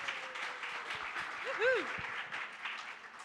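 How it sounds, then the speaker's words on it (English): A small audience at a live event gives the guests a round of applause, fairly faint scattered clapping with voices and a whistle-like tone cutting through partway. "let's have a round of applause for these guys"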